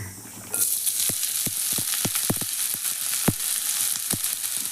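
Onions hit hot oil in a pan for a samosa filling, setting off a sudden loud bright sizzle that keeps going, punctuated by repeated sharp clacks of a spoon or spatula stirring against the vessel.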